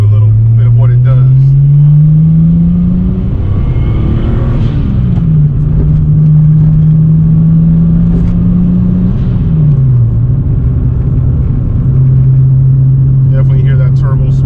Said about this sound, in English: Definitely hear that turbo spool. The blow-off valve sounds real nice, complimentary to this whole setup.